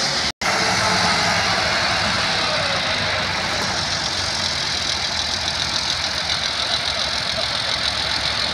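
Close, loud tractor engine running at a steady idle, with a rough knocking chug throughout and one very brief dropout near the start.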